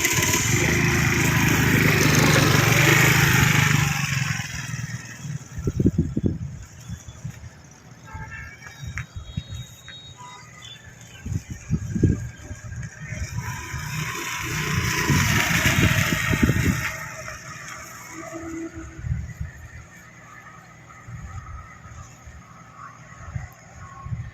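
A scooter (Scooty) ridden one-handed gives a steady close engine drone that rises and falls. Irregular low thumps run through it, and faint voices may be present.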